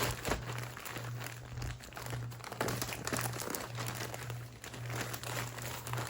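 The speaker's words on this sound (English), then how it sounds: "So let's unwrap this." A Harbor Freight canvas drop cloth is pulled from its plastic packaging, giving a steady, close crinkling and rustling that runs throughout with small louder crackles and no speech.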